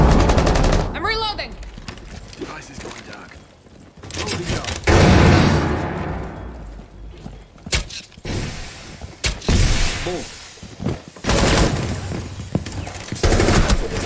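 Bursts of gunfire in a ranked duo match of the tactical shooter Rainbow Six Siege, loud sharp volleys and single shots scattered across the stretch under game noise, with occasional talk.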